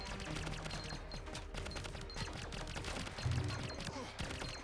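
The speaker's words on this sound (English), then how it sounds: "because I have extra projectiles there too, I've got 3 turrets on my back. And so they're just gonna fire whenever I fire" Rapid, dense bursts of automatic fire from three back-mounted turrets blasting bullets in the space survival roguelite Greedland, a continuous loud barrage with layered game sound effects and no talking.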